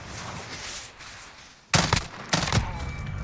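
A FAMAS fires in bursts in Call of Duty Modern Warfare, two loud, close bursts of rapid shots about half a second apart, following a quieter stretch of background game ambience.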